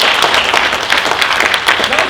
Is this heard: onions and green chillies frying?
no